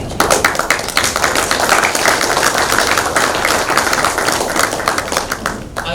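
Audience at a hospital launch event applauding steadily for the full stretch, a dense, loud crowd of clapping hands.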